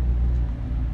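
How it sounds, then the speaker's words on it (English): An Audi R8 sports car pulls in at a supercar event with a deep, steady engine rumble. The sound is loud and close, and it holds evenly through the brief moment with no speech over it. "Got an R8 pulling in."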